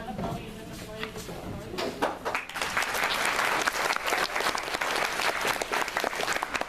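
Generous audience applause at an awards show, prompted by an applause sign; voices are heard at the start before a full crowd of clapping builds and carries on loudly to the end.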